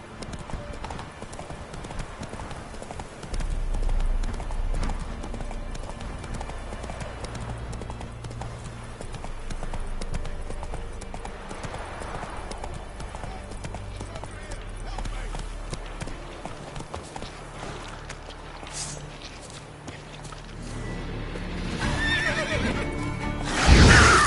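Roach the horse gallops in The Witcher 3 with steady rhythmic hoofbeats over a game soundscape and lets out a neigh near the end, while a voice talks over the action.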